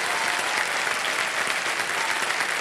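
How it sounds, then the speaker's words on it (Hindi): A studio audience on the game show KBC Season 15 gives loud, sustained applause to welcome guests onto the stage. The clapping is dense and steady throughout, with no speech over it. "बहुत जोरदार तालियों के साथ हम चाहेंगे कि इनका स्वागत किया जाए।"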